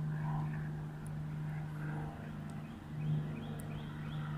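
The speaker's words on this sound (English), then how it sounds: "noisy airplane flying overhead" A noisy propeller airplane drones overhead above a river, a steady low engine hum that swells slightly, heard from a distance with no talking.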